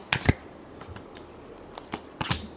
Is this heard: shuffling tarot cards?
yes